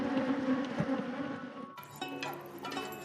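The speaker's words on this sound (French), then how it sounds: "Ici, les abeilles sont particulièrement agressives." Aggressive bees swarm around shea honey beehives in Benin, making a close, continuous buzzing drone that shifts in pitch as insects pass near, with no talking.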